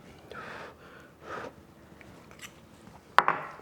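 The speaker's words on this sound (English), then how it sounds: "Let me try one of the potatoes. Break off a little piece." A bite of soft pot roast potato, then quiet, close chewing and mouth noises, with a short sharp click or snap near the end.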